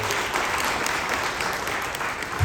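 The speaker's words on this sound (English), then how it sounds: "Can we have another big round of applause for Congressman Adriano Espaillat?" An audience at a Black History Month celebration gives Congressman Adriano Espaillat a round of applause, with dense, even clapping that swells slightly at the very end.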